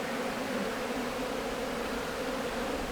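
Steady dense buzzing of honey bees swarming around an opened hive during an inspection, close and continuous with no pauses.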